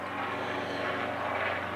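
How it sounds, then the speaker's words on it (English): An airplane passes overhead as a loud, steady engine roar that fills the whole moment with no speech. "Sorry about the airplane."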